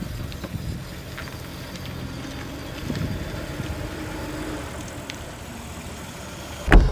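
A 1938 Mercedes 320 Pullman limousine pulls away, its engine a steady low hum with faint rumble throughout, building slightly midway, with a sharp knock near the end.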